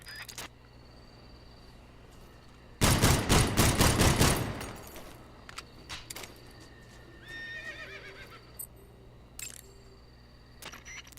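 A horse whinnies in the stealth video game Metal Gear Solid 3 Snake Eater, a loud, close, fluttering burst that fades over about two seconds, followed by faint ambient game sounds and a few sharp clicks.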